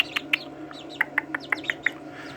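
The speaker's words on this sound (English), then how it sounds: "Quick video of the chicks, like 2-3 months old chicks." Bright, repeated chirps from two-to-three-month-old chicken chicks, about a dozen short peeps in an uneven rhythm over a low steady hum, fairly close by.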